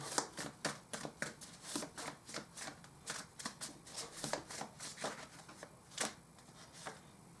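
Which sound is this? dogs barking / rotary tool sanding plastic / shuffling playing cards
shuffling playing cards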